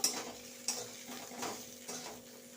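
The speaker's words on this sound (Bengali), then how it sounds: "দিয়ে এবার নেড়ে চেড়ে কষে নেব" Spices are stirred and fried in a pan, a faint low sizzle broken by a few evenly spaced spatula knocks and scrapes against the metal, close and quiet with no voices.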